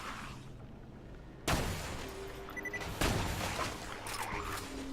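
Gunfire in Borderlands 2 breaks enemy helmets with two sharp, loud bursts of shots about a second and a half apart, each trailing into a crackling, rumbling spread of game combat noise.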